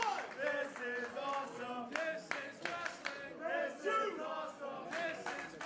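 A wrestling crowd at a match between Caleb Konley and Gran Akuma cheers and shouts in appreciation for both men, a loud rolling mix of yells and rhythmic bursts of noise.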